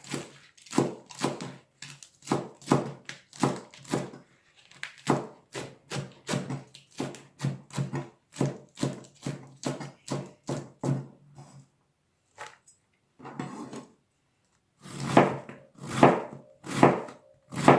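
A knife chops steadily through cabbage on a board, shredding it finely for fried Thai spring rolls; a brisk run of close, even strikes continues for about twelve seconds, pauses, then resumes in a few louder bursts.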